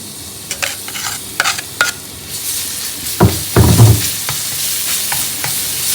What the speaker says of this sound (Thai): ผัดแค่ให้มีกลิ่นหอมนะคะ